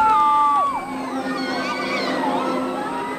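A crowd on theme park rides at Star City screams and cheers, high shrill voices rising and falling together at a moderate distance, loud and overlapping with no clear pauses.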